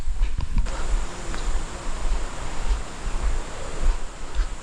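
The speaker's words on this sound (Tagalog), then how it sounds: "Naririnig ko na yung ilog." Steady broadband rush of a river flowing at an outdoor swimming spot, a continuous watery wash with a low rumble beneath and a few soft knocks near the start, with no voices.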